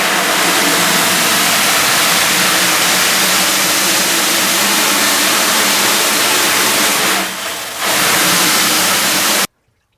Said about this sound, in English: simply rinse out with low pressure water.